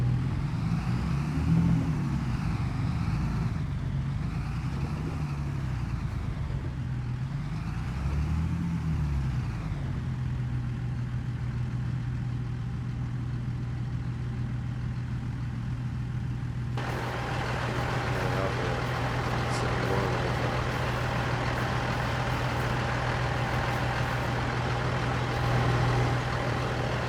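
A tractor engine in the video game Farming Simulator 2025 rumbles steadily at a low idle, its pitch rising and falling early on before settling into an even drone, with soft mechanical noise joining later.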